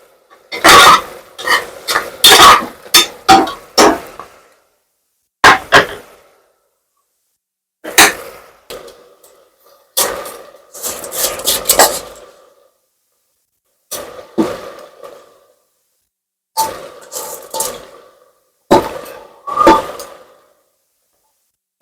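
A knife chops a tomato on a cutting board in a home kitchen, sharp close knocks coming in quick bursts of several strokes separated by short pauses.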